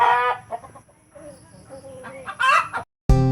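Chickens cluck and a rooster crows nearby in a backyard flock of egg-laying hens, the calls rising and falling in short bursts, with one loud crow near the end after a brief pause.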